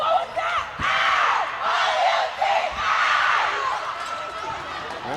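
A JV cheer squad shouts and cheers at a girls' high school volleyball senior night game in a gym, loud rhythmic bursts of chanting voices over crowd noise and occasional ball bounces.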